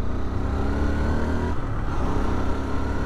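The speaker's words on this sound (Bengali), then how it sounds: "সো একটুখানি টেনে দেখবো বাইকটাকে।" A Hero Xtreme 160R 4V motorcycle with dual ABS pulls hard along a highway, its engine a steady, loud, close drone that holds without a break.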